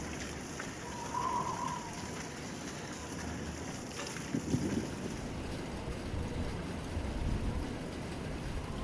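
Wind blows steadily outdoors beside a tandoor being readied for a wood-twig fire, a continuous rushing, buffeting roar across the mic with a few faint knocks and no voices.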